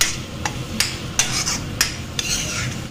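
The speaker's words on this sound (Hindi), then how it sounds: "अब इसमें मैंने मसाले का पेस्ट जो रेडी कर लिया है अब वो मैं डालूंगी और उसको अच्छे से डाल के चलाऊंगी" Spice paste is stirred into fried onions in a pan, with a spoon scraping in regular strokes over a soft background sizzle and no talking.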